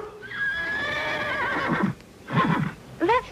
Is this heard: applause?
no